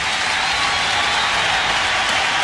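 A stadium crowd at a Baltimore Orioles baseball game applauds Cal Ripken in a steady, dense roar of clapping that continues without a break throughout.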